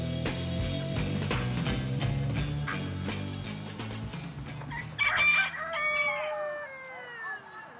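Chickens cluck in a busy jumble before a rooster crows loudly near the end, with background music-like tones underneath.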